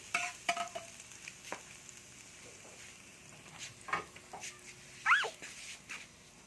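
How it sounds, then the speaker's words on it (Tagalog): Garlic stirred and fried in a pan for homemade chowpan gives soft, intermittent scrapes and clicks of a utensil over a faint sizzle, with no talking. "Una, maglalagay tayo ng bawang. Haluin ng mabuti."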